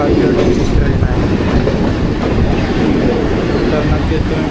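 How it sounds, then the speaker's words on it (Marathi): A Mumbai local train on the Sanpada service pulls out of Vashi station, filling the space with a loud, close, continuous rumble and rattle of wheels and carriages throughout. "ही सानपाडा काळशेटची ट्रेन ही वाशीवरून निघालेली आहे"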